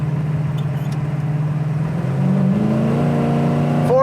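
A 1972 Chevelle Malibu V8 with a four-barrel carburetor idling steadily, then revving up as the pitch climbs in the second half, heard close inside the car without speech.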